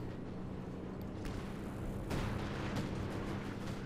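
Artillery fires in Company of Heroes 2 during a 1v1 match between German OKW and US forces, several dull booms and sharp cracks landing over a constant dense rumble of battle.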